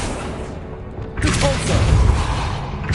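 An Accio spell cast in a Harry Potter game: after a low rumbling lull, a sudden whooshing magical burst swells up and rolls on loudly with deep booming texture.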